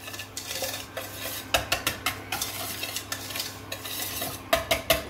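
Softened butter and sugar are stirred together in a bowl for almond croissants, with a spoon scraping and clinking against the bowl in an uneven series of close, fairly loud strokes.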